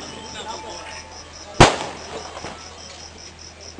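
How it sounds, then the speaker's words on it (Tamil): Firecrackers burst at a political party gathering, one sharp loud crack midway and another at the end, over a steady hum and faint background noise. "வெடி வெடிக்கிறது."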